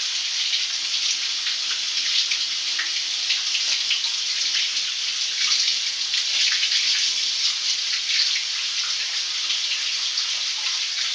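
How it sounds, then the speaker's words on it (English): Canned black beans rinsed under a running kitchen tap, a steady hiss of flowing water splashing continuously and evenly throughout, close and fairly loud, no talk. "See all that extra juice that they have in the can pretty much holds your excess sodium that we're going to rinse off"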